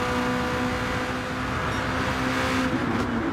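Race cars in a sim racing game at Interlagos, a steady engine drone holding throughout with a tonal whine, close and continuous, several cars battling for position on the final lap.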